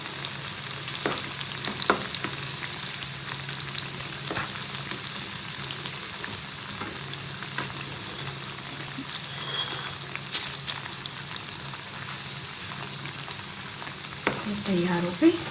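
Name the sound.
shakkar paray dough pieces frying in oil in a pan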